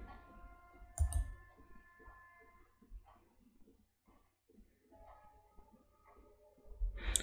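Computer mouse clicks while working in Siemens TIA Portal software, a few sharp faint clicks scattered over a quiet background with soft low hum and sparse tones.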